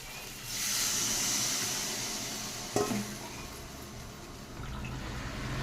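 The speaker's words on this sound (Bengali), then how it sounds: "ঝোলটা ফুটে গেছে" Curry broth with chilli, cumin, turmeric and salt boils in a pan, giving a steady soft hiss and bubbling that continues throughout, with a single brief clink partway through.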